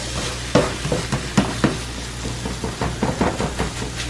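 Eggs frying in a pan on a stove for a quick breakfast, with cheese melting on top: a steady sizzle runs throughout while a spatula scrapes and taps the pan in irregular clicks, close and fairly loud with no talking.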